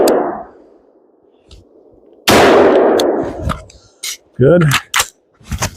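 A rifle with a 16-inch barrel and intermediate gas system fires loud sharp shots with a quiet gap between them, then mechanical metallic clatter follows; someone speaks briefly between.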